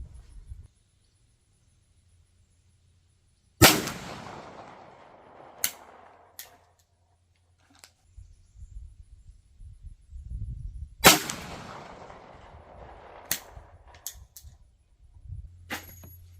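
Two loud, sharp blasts from a .410 shotgun firing custom slug handloads, several seconds apart, each ringing out into an open outdoor space, with lighter clicks and handling noises between them.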